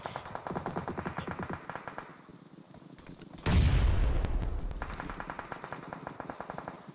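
Sustained gunfire and a loud grenade blast in a competitive video game shooter scrim match, with rapid rattling shots before a heavy explosion that decays into continuing distant firing.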